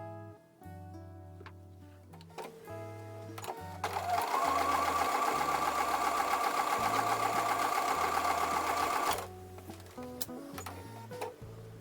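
Sewing machine stitching the four centre units of an 8-inch woven star quilt block, a steady fast mechanical whir that runs loud and even for several seconds between quieter machine passes, with background music throughout.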